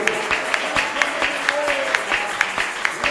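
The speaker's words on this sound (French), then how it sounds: "Acclame encore très fort pour nous." A church congregation applauding during a worship service, steady rhythmic clapping from a crowd under a voice speaking over it, moderately loud and close.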